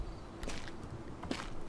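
Footsteps in the survival game H1Z1, a few soft, uneven steps over a quiet ambient bed, moderately close.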